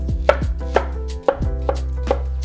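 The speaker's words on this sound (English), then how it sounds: "Finally chopping it." A knife chops an onion on a cutting board in about six crisp, evenly spaced strikes, close and clear over a steady low hum.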